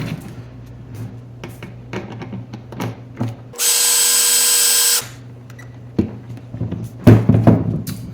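Close power drill whirs briefly while screws are driven into a rain barrel pump assembly, with clicks and handling knocks around it and a loud steady electronic tone for over a second.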